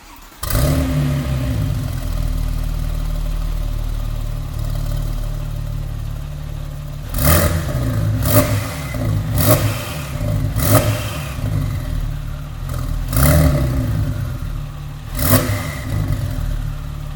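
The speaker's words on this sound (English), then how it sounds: "So we're going to do a cold startup." Porsche 911 Turbo with a Metzger engine started cold indoors in a studio: starter crank and catch into a loud revving idle, followed by several sharp throttle blips, close and alone.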